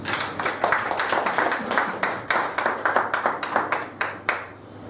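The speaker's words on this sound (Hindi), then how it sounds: "मॉडल के लिए एक बार ताली बजनी चाहिए थी।" An audience at a company plan presentation claps in a round of applause, dense rhythmic hand claps that hold steady for several seconds before fading, no voices over them.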